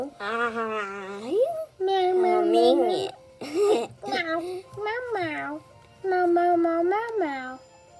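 A voice imitates a cat, giving a series of drawn-out, high-pitched meows in close succession, with short pauses between them.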